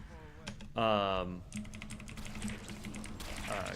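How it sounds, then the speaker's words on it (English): Clicky computer keyboard typing in a rapid, steady patter of close keystrokes throughout, with a loud tonal burst near the start and a person speaking over much of it. "the type of keyboard I have is just one that's got clickety-clackety buttons"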